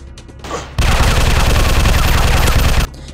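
Rapid automatic gunfire in a military shooter video game, a loud, dense burst of continuous shots lasting about two seconds before cutting off abruptly.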